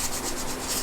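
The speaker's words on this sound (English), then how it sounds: "So here we are, just sanding away the" Steady, close abrasive rubbing of sandpaper over the flaking body of an R33 Nissan Skyline, with rhythmic strokes repeating throughout and no voices.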